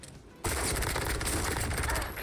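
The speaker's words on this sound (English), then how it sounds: "so far the gunshots are pretty clear" Rapid video game gunfire, a dense sustained burst of loud shots with heavy bass, starting abruptly and continuing without a break, close and alone.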